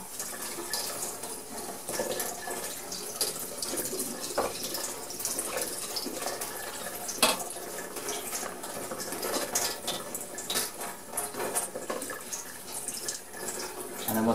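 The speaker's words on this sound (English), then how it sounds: "Again, just rinse it under warm water" Warm tap water runs steadily into a sink while a Dyson V6 cordless vacuum part is rinsed under it, a soft continuous splashing with small shifts as the part moves, fairly quiet and close.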